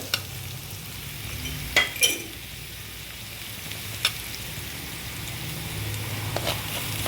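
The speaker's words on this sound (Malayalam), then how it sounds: "ഇപ്പോൾ നമ്മുടെ സവോളയും ഒന്ന് വഴന്ന് വന്നിട്ടുണ്ട്" Sliced onions sizzle softly in a pan for chilli soya gravy, with a few sharp scrapes and clicks of stirring over the quiet frying hiss.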